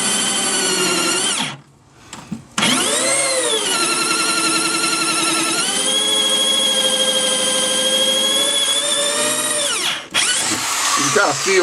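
A hole saw drills through layered material for Sea Ray boat engine mounts, a loud, sustained, whining power-tool drone with shifting pitch, briefly stopping once before running on and cutting off near the end.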